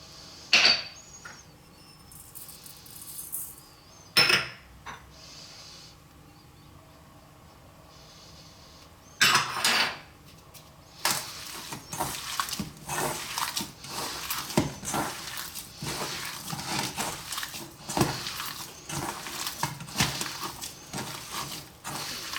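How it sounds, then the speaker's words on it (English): Ground pork meatball mixture seasoned with oyster sauce is squished and mixed by hand in a bowl, giving soft irregular squelching and slapping that quickens into a busy, close run of wet handling noises after a few sharp clinks early on. "Simply all in there with your hand, give it a mix."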